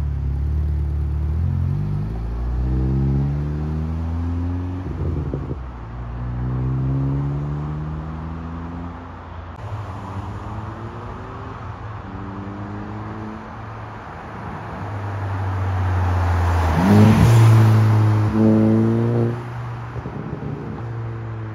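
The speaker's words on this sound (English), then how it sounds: "now we are driving the Skoda Octavia" A 2006 Skoda Octavia vRS drives along with a steady low engine rumble and rising, shifting tones as it accelerates through gears, with a louder surge near the end; no talking.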